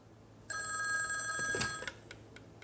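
A telephone bell rings once in a single steady burst of about a second and a half, then a few faint clicks follow in a quiet room.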